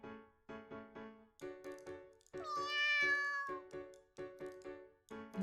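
A game cat meows with a series of short, clipped mews, then one long drawn-out wail in the middle, then more quick meows, clear and fairly close with no talk.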